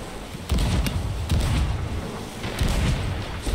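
Galleon cannons fire in an Xbox naval game, a series of booming blasts at irregular intervals over roughly three seconds, loud against a steady background rumble.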